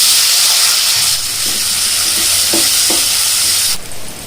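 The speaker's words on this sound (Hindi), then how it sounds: "अब ये तेल के अंदर हम फ्राई कर लेंगे।" Two large roughly chopped onions fry in hot oil with a steady broadband sizzle, a few stirring scrapes partway through, and the hiss growing sharper near the end; no one speaks.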